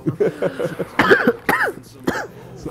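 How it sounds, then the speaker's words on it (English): Rough, repeated coughing mixed with strained vocal sounds, close and fairly loud, several bursts in under three seconds. "Dying from cough."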